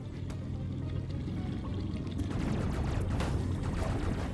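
Samus wading through water in the video game Metroid Dread, with muffled low-end rumble and sloshing, splashy bursts growing busier in the second half, steady and fairly loud with no voices.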